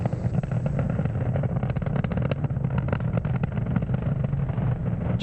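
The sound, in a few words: Falcon 9 rocket Merlin 1D engines during ascent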